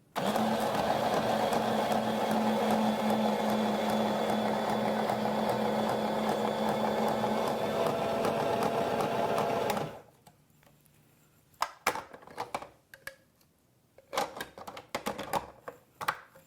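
Cuisinart SSL100 spiralizer cutting zucchini into ribbons: a loud, steady motor whir lasting about ten seconds, then it stops, leaving quiet clicks and handling knocks.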